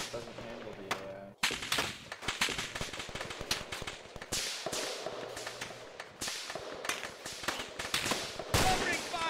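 Rapid bursts of gunfire from the military video game ArmA 2, sharp cracks and automatic volleys packed closely together, some near and loud, others more distant, continuing throughout with voices talking over parts of it.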